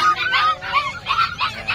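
Several geese honk repeatedly and loudly at close range in a busy pet market, their calls coming in bursts with little pause between them.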